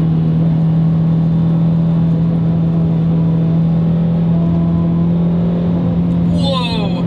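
A 400 hp big-turbo Audi TT engine after a downshift to third, a steady loud droning hum from inside the cabin holding an even pitch throughout, with a brief higher whine near the end.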